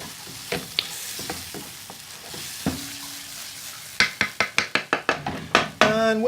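Kashmiri garlic prawns sizzle in a pan while being stirred, with a steady frying hiss under scraping, then a quick rhythmic series of sharp clacks from a utensil striking the pan, louder toward the end.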